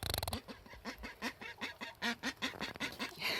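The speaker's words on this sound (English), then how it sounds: "That quacking, that's pretty much her constant state of being right now." A broody duck sitting on a nest quacks repeatedly in a steady series of short, close, irritated calls with no talk.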